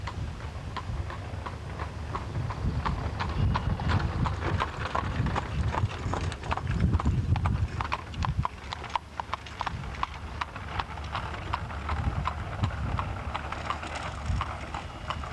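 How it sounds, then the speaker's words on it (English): Hooves of a horse pulling a buggy clip-clop steadily on a rural road in Amish country, a brisk, even trot heard close and continuous over rolling wheel noise. "Travel by horse-drawn buggy is both scenic and relaxing."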